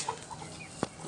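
A chicken, one of several breeds kept in a poultry setting, gives soft, short clucks, faint and close, with one sharp tap-like sound partway through and no talk.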